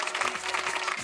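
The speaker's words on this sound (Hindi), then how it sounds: "जोरदार ताली हमारे उड़ी पापा के लिए" Audience on a dance TV show breaks into brief, brisk applause, a dense burst of clapping heard alone for about a second.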